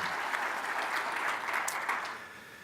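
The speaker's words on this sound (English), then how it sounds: "So would you give these guys a round of applause?" Audience applause at an insurance summit conference, a steady broad wash of clapping from a crowd that holds for about two seconds and then tapers off.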